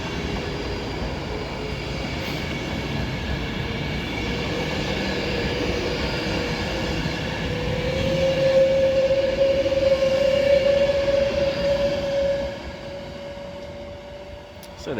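A Class 390 express train pulls out of Oxenholme station for Glasgow Central with a steady, close rumble and rising electric motor whine that peaks in the middle before fading, under faint platform ambience.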